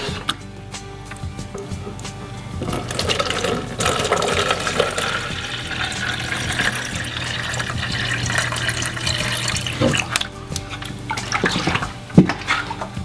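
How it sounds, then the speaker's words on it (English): Water runs steadily into a plastic jug for several seconds, a continuous splashing gush with some clunks and handling noises toward the end, filling to the 8-pound line for mixing grout. "fill it up with water to the 8-pound line right here."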